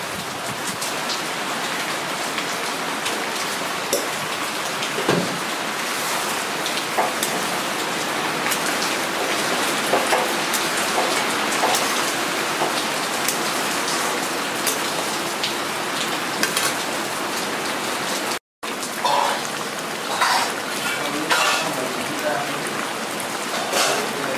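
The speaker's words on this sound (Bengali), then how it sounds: "ভেজে রাখা আলু পটলটা মিশিয়ে দিয়ে ভালো করে কষাবো।" Fried potatoes and pointed gourd sizzle loudly and steadily in a pan with yogurt, a continuous hiss that cuts out for a split second near the end.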